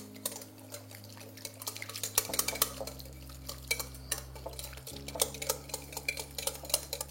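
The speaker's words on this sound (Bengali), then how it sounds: "তারপর এটাকে ভালো করে একবার মিশিয়ে নিন।" Spice marinade with black salt is stirred by a spoon in a bowl, giving repeated scraping clinks and taps in an uneven rhythm, close and moderately loud over a low steady hum.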